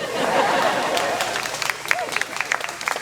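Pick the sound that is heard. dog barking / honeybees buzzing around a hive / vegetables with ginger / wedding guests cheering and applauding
wedding guests cheering and applauding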